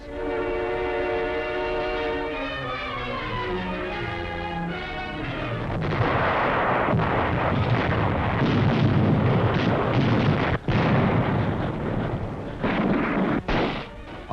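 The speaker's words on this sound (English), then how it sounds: "the Yanks advanced slowly, facing one of the fiercest artillery barrages of the war" Heavy artillery barrage from the 1945 Pacific war on Okinawa, heard as a dense, sustained roar of blasts and rumbling booms, loud and continuous, preceded by a few seconds of a steady whistle-like tone.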